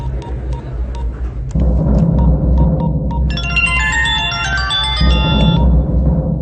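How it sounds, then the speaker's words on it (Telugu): A phone ringtone plays a bright electronic melody over a steady low hum, sounding once in the middle of the clip. "अभी फोन लगाता हूँ. बज रहा फोन, बात करेंगे."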